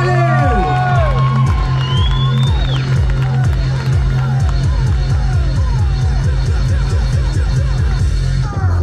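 Large crowd at a street workout show cheering and clapping, dense rhythmic applause with shouts and excited voices, loud and close throughout.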